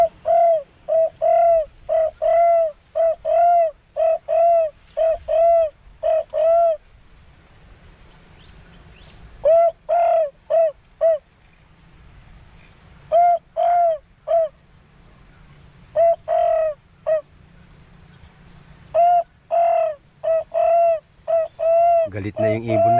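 Repeated dove coos from an electronic bird caller, used to lure wild doves, play in short, regular bursts of several notes with brief pauses between, clear and close against a quiet, faintly humming background.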